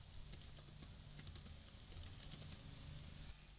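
Keys tapped on a computer keyboard, a rapid stream of faint clicks sitting under a steady low hum and background noise.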